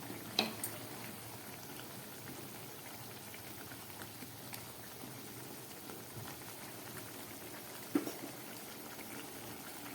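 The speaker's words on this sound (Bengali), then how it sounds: "মাছের ঝোলটা ফুটে উঠেছে, এবার আমি ভেজে রাখা মাছগুলো এর মধ্যে দিয়ে দিচ্ছি।" Tangra fish curry boils in a pot, a faint continuous bubbling and popping with a few louder isolated pops, no voices.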